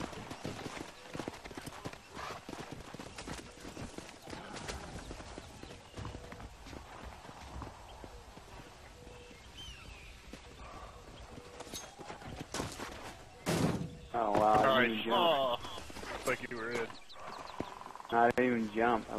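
Horse hooves clip-clop rapidly in Red Dead Redemption as the horse scrambles down a rocky mountainside, a busy steady patter running under excited voices talking over it.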